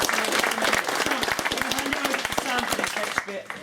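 A crowd of tabletop wargamers applauds entrants to a miniatures painting competition at a tournament, dense steady clapping filling the room throughout and easing off slightly at the very end.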